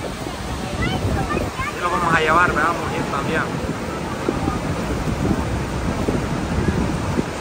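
At Niagara Falls, falling water pours with a steady, broad, loud roar, mixed with wind on the microphone while a person talks over it.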